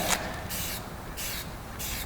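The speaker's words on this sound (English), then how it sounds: "as you feather it out, you get some nice softer spray" A spray paint can spraying graffiti, feathered out with wrist flicks: continuous hissing spray in alternating louder and softer bursts, close and steady, with no voices.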